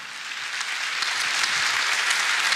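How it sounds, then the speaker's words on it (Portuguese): A church congregation applauds in a continuous, dense wash of many hands clapping together, steady and fairly loud throughout with no voices over it. "E para Jesus, a sua melhor salva de palmas."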